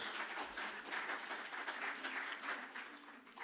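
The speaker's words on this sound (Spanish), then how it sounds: "Denle ese aplauso fuerte a Cristo" A church congregation claps together in a steady wash of applause, fairly faint and distant throughout, with no voices over it.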